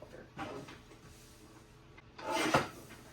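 A leftover paper print being cut down on a trimmer for an accordion hinge album, two soft sliding swishes of the blade a couple of seconds apart, faint and close, with no talking.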